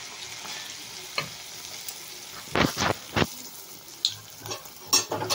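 Duduru pitha batter frying in hot oil, a soft continuous sizzle close by, with a few louder stirring scrapes and splashes about midway and near the end.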